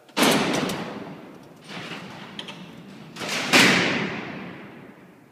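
Heavy steel cell doors at Alcatraz prison rolling shut during a night tour demonstration: a loud clanging slam, a softer rumbling roll, then a second resounding slam with a long echoing decay in the cellblock.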